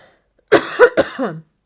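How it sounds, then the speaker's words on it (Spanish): A person clears their throat in a few quick, close, loud rasping bursts, followed by a short voiced throaty sound, all alone in an otherwise quiet indoor space. "de repente he empezado a carraspear"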